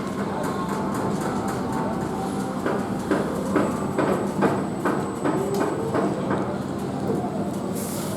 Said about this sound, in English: there is 2 trains in the station and another one going round the track